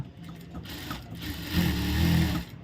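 A sewing machine runs a short burst of stitching along the back edge of a blouse, a close, steady mechanical whir that grows louder and fuller in its second half before stopping.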